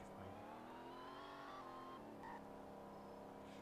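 Car engine in the Roblox game Greenville, a steady rising rev with a tonal engine whine, a gear shift, then the pitch climbs again, continuous and close, with no talk over it.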